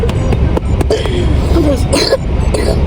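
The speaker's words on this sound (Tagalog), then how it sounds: "Hard talaga yung ubo niya." A child coughs hard several times in a row, close and loud, with voices and household noise around the coughing.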